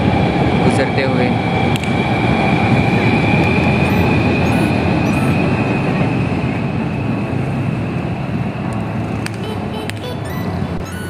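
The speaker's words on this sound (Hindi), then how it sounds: "और ये ऑरेंज लाइन ट्रेन" The Orange Line metro train in Lahore passes by, producing a steady, loud rolling rumble with a faint high whine that holds for about eleven seconds and eases slightly near the end.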